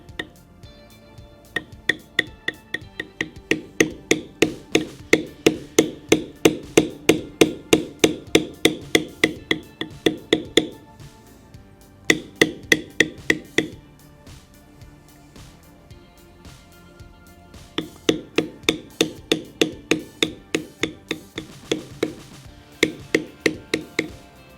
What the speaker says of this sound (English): The finer the detail, the lighter the stroke of the mallet.